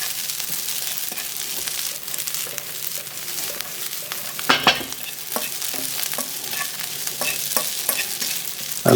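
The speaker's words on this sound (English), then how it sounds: "and then I stir" Cumin butter spaghetti is stirred in a hot pan, a steady sizzle under repeated scraping and clacking of a utensil, close and fairly loud.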